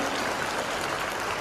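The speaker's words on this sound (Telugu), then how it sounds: "గట్టిగా క్లాప్స్ కొట్టాలి సార్" Audience at a school event in Siddipet applauding, a dense, steady wash of many hands clapping that holds evenly for about a second and a half with no voices over it.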